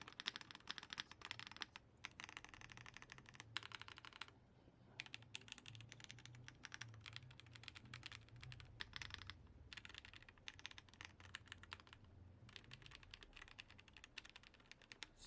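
Repeated clacky keystrokes on an RK Royal Kludge M75 mechanical keyboard, with the space bar pressed over and over in a steady typing rhythm, close and clear with only brief pauses.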